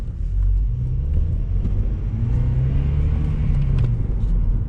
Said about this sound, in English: just laying on the gas, and the RPMs and the acceleration are going up at the same rate